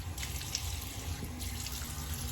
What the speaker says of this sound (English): I'm gonna go ahead and rinse that off real quick